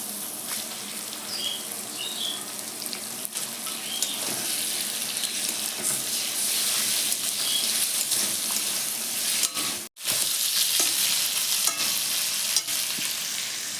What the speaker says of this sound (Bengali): এখন আমি চিকেনটা দিয়ে দেবো ভিতরে।